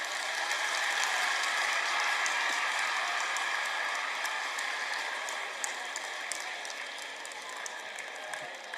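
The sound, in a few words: audience clapping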